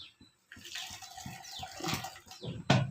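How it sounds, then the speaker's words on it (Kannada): Hot water poured steadily from a kettle, a close, bubbling liquid stream that runs for a few seconds and ends with a brief splash. "ನಾನು ಕೆಟಲ್ ಇರೋದ್ರಿಂದ ಬಿಸಿ ನೀರು ಕಾಯಿಸಿ ಹಾಕ್ತೀನಿ"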